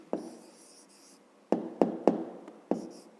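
A pen writing an answer on paper during a fifth-grade math exercise: a soft scratching stroke followed by several sharp taps and short scribbles, close and quiet, with no talking.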